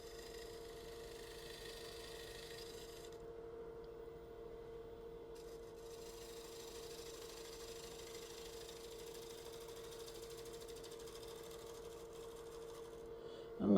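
Wood lathe spinning steadily while turning a winged bowl, a constant low motor hum with faint rubbing of the tool on wood, close and even throughout, with no talk.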